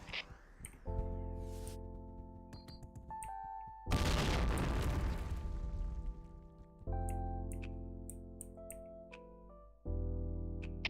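A grenade detonates in a video game, one loud burst with a rumbling tail in the middle of the clip. Sustained tonal game sounds and short clicks surround it, with a few more thuds and swells later.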